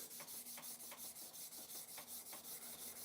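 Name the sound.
hand sanding tobacco pipes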